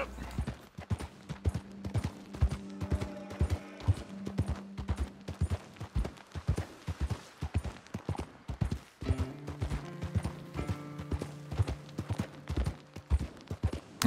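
Horse hooves clip-clop steadily in Red Dead Redemption 2, a rapid, rhythmic run of sharp hoofbeats over a low sustained game score, close and prominent throughout.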